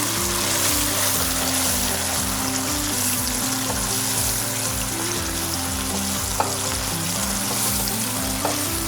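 Doubanjiang chili bean sauce stir-fried in hot oil in a wok for shrimp in chili sauce, a steady loud sizzle throughout with a low rhythmic hum underneath and a couple of faint utensil taps, no talk.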